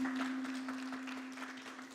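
Church congregation clapping their hands together, a soft scattered patter of many hands that fades gradually, with a steady tonal hum underneath.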